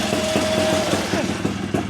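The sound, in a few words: two-stroke motorcycle engine idling, warming up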